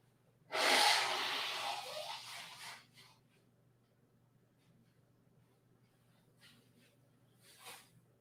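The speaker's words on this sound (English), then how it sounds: "I just gotta blow my nose." One loud, forceful nose blow bursts out and trails off over a couple of seconds, followed by faint sniffs and breaths in a quiet room.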